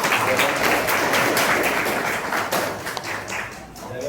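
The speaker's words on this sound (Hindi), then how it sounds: "तो तालियों के साथ स्वागत कीजिए।" Workshop attendees in a hall clap in welcome, a loud, close burst of many hands with some thumping taps, tapering slightly toward the end, with a voice faintly mixed in.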